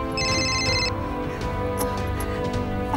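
A telephone rings in a Bengali police crime drama: a short electronic ring burst at the start, then fading, all over steady background music.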